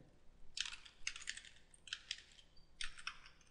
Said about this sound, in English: Now we're going to type in the administrative username.